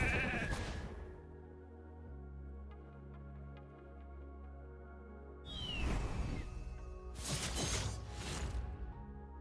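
A cartoonish sheep bleat from a polymorph spell in a video game, heard as a couple of short, bright bleats over quiet game ambience, with a whooshing spell effect in between.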